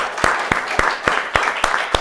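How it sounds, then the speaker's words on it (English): Audience applause for a panel discussion on the crises in Mali, with sharp, distinct claps standing out above a steady wash of clapping that fills the short stretch. "Please join me in a round of applause for all of our panelists."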